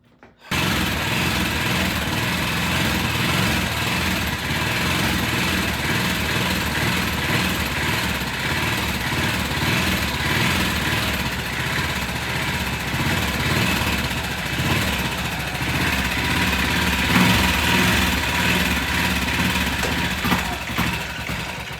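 A BSA motorcycle engine, an A65 or 441 Victor, running after a kick start, a continuous rough idle with uneven knocking pulses, close and fairly loud throughout with no talking.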